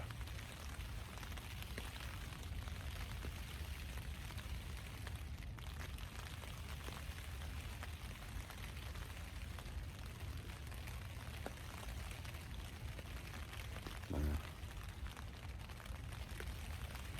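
Light cold winter rain falls on the tarp of a Jack Wolfskin Yellowstone 4 tent, a soft, dense, continuous patter of fine drops close overhead, steady throughout with one brief thump near the end.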